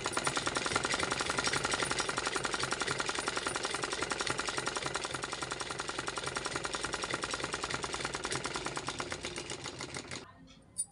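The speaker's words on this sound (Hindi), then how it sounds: "यहाँ से हम 8 इंच पर सिलाई लगा लेंगे सीधा" Sewing machine stitching a straight seam for a pant pocket, a loud, fast, steady mechanical chatter running for about ten seconds before stopping, with a click at the end.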